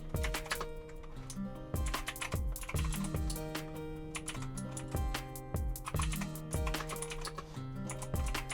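Rapid keyboard typing clicks close and busy over a rhythmic musical backing with repeating low tones, continuing steadily throughout, with no talking.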